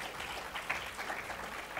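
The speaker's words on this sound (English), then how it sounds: "they deserve a big round of applause" Applause from a panel discussion audience on constitutionalising socioeconomic rights in Sri Lanka, a quiet, even spread of clapping heard from a distance throughout, with no voices on top.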